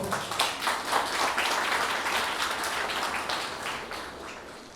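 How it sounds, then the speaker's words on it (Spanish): Applause from the audience at an international university seminar on public universities and solidarity economies. A dense wash of clapping is heard with no talk, holding steady and then slowly fading toward the end. "Un aplauso, por favor."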